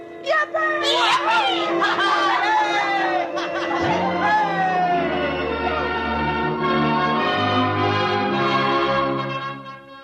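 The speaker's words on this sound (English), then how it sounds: "The bells of the Baptist, the Congregationalist, and the Roman Catholic Church were ringing." Church bells of several churches peal in a radio drama scene, layered with a cheering, chattering crowd and voices, continuous and full throughout.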